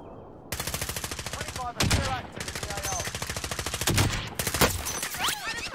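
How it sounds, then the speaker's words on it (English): Video game firefight with sustained rapid automatic gunfire in long bursts, loud and close, with overlapping shots as enemies return fire and a voice briefly exclaiming. "Oh shit, they're returning fire"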